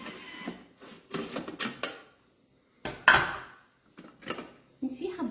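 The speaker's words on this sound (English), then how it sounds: "just scraping down that garlic" Chopped garlic is scraped down inside a Thermomix bowl, a run of short scraping and clunking strokes with brief pauses between them, one louder knock partway through.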